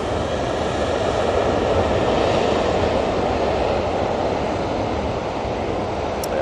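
A Boeing 737 passenger jet on its takeoff roll at Manchester Airport, its engines producing a loud, steady broadband roar that holds without a break.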